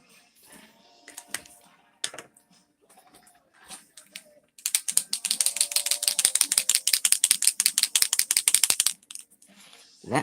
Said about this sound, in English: That weird sound like a spray paint can is a Posco white pen